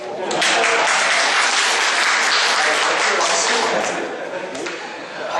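Loud, steady audience applause at a lecture on classical thought, a thick continuous wash of clapping that holds throughout and eases slightly toward the end.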